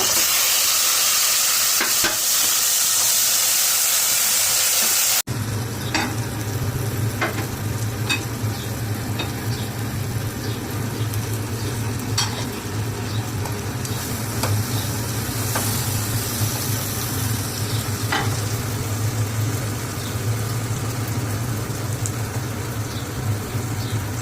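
Ginger-garlic paste and mustard hit hot oil in a pan for a beef pickle, a loud sizzle and steady frying with scraping stirs, after a brief burst of louder hiss at the start; no talking.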